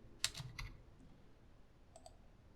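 Computer keyboard keys tapped while entering a password: a quick cluster of soft clicks, then a short pause and a couple more light keystrokes in a quiet room.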